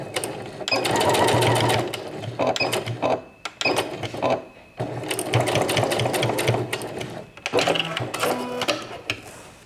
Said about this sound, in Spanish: luego las volveré a poner porque me va mejor para poder coser esta parte sin pillar lo demás.